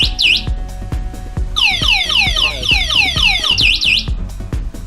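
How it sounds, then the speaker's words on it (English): A loud electric motorcycle anti-theft alarm wails in a cycling sequence of warbling chirps and rising sweeps, repeating continuously with a steady beat thumping underneath. "you heard the alarm"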